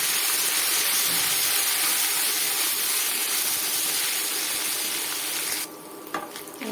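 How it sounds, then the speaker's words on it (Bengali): Ginger garlic paste sizzles in hot oil for plain pulao, a steady, loud broadband hiss that runs on and then drops off abruptly near the end with a few clinks. "আদা রসুন বাটাগুলোকে আমি তেলের সাথে একটু ভেজে নেব"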